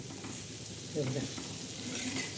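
Bitter gourd (karela) pieces frying in a pan, a soft steady sizzle with brief stirring scrapes near the middle, close and fairly quiet throughout.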